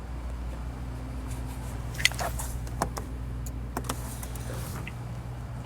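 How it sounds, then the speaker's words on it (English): Under a low idling car hum, a few faint, sharp relay clicks tick out, with two standing out a little louder than the rest. "I heard the relay click already."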